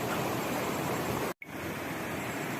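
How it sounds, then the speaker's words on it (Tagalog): Water pours steadily at Daranak and Batlag Falls, a broad, even rushing hiss that runs continuously with a brief cut in the middle, with no voices over it. "Sasabayan pa ng agos ng tubig galing sa talon."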